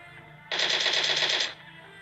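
A single sustained burst of rapid automatic gunfire in a video game lasts about one second, sharp and close, with quiet before and after.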